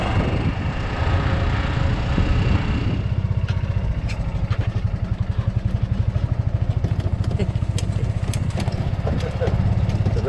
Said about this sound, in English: Got a little golf cart, a cooler, snorkel gear, all kinds of cool stuff.